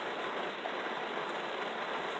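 Steady rain drumming on the roof of a parked car, a soft continuous hiss without breaks, even and fairly faint.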